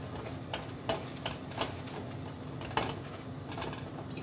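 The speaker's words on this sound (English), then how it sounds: "while we're waiting for it to cool off, we would continue to stir" A utensil stirs hot homemade carrot oil in a pot, giving soft scraping strokes roughly every half second to second over a low steady background hiss, close and fairly quiet.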